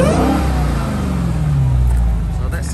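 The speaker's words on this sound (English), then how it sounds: "Let's hear the supercharger." A 2021 Dodge Challenger SRT Hellcat Redeye revs up and holds, its supercharger's steady rising whine riding over the low rumble, close and loud.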